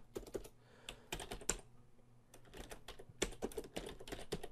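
Keys clattering on an old Microsoft computer keyboard in quick bursts of rapid typing with short pauses in between, close and fairly loud with no voices.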